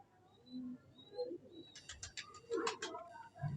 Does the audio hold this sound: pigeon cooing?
yes